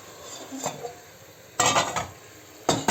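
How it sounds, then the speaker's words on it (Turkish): A few metallic clanks of a pan being put down on a hard surface, close by, separated by short pauses over faint kitchen background noise. "Şu tavayı şuraya koy"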